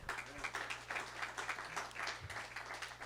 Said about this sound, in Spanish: ¿Alguien le puede dar un aplauso al Señor?